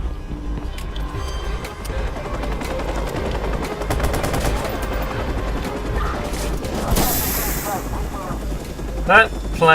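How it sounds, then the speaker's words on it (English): Loud Watch_Dogs game action with rapid gunfire bursts and a helicopter's rotor drone, layered with crashes and explosions, and a person talking over the noise. "That helicopter's probably going to be a problem."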